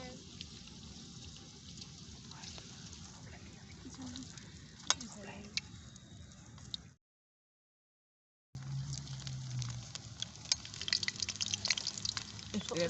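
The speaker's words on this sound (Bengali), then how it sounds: "তেল গরম হয়ে এসেছে এখন আমি পাপড় ভেজে দিই" Papad frying in hot oil at an outdoor village-style night picnic, a steady close sizzle with stirring clicks, broken by a gap of silence before the frying resumes louder.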